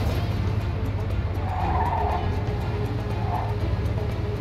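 Car engine revving hard with tire skids in the video game Mafia II, a steady loud driving roar with brief squealing swells, without talk.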